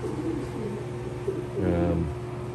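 Racing pigeons in a breeding loft coo softly in low, rolling phrases, with one bird's burbling coo swelling near the end; the sound is close and moderately quiet against a faint room hum.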